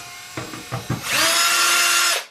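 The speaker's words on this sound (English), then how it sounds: "I'm going to use a drill." A power drill backs power-supply screws out of an eMachines PC case. A few short clicks and taps come first, then a loud, steady whirring burst lasts about a second before stopping.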